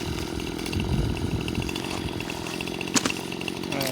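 A chainsaw trims a rotted tree, its engine droning steadily close by, with a brief sharp knock near the end.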